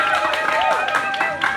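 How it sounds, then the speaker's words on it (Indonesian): A gathered crowd at an exhibition opening in a village cultural venue claps for a guest, with brisk, lively applause and a few scattered voices over it. "Tepuk tangan untuk Karen"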